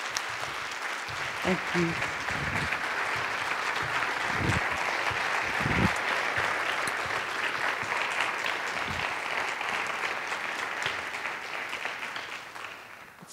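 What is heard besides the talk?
audience applause welcoming a speaker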